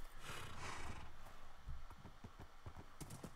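Horse in Minecraft, snorting and neighing up close, with a few soft hoof thuds toward the end.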